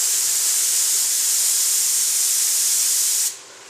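A C.A. Technologies HVLP spray gun fed by a pressure pot releases a steady, loud hiss of spraying air for about three seconds, then cuts off sharply when the trigger is let go.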